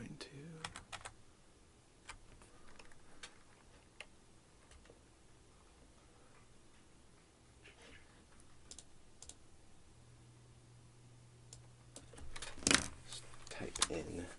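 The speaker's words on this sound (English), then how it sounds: "type in that link real quick." Keys tapped on a computer keyboard in scattered, irregular clicks while typing a web link, quiet and close, with a louder burst of clatter near the end.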